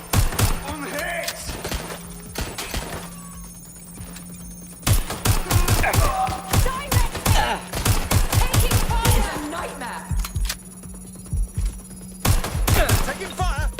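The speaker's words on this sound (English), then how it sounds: "They're shooting at us!" Video game gunfire: dense bursts of rapid shots and fusillades, loud and close, come in clusters with brief lulls between them. Voices can be heard under the shooting.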